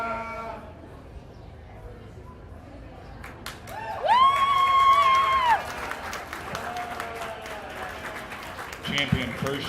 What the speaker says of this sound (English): give all these kids a big round of applause